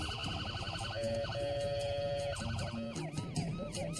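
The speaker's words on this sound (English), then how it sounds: "When the ambulance passes him, Michael finishes" An ambulance siren wails past on a road, a loud wavering tone that rises and falls over traffic noise, close and steady throughout with no speech.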